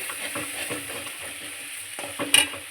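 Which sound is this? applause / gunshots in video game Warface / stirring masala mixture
stirring masala mixture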